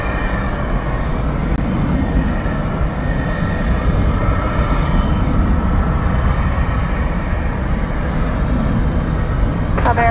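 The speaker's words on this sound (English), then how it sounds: "We've got an American 787 Dreamliner." An American Airlines Boeing 787 Dreamliner at DFW Airport produces a continuous, loud jet engine roar that holds steady throughout, heard from fairly close with no speech.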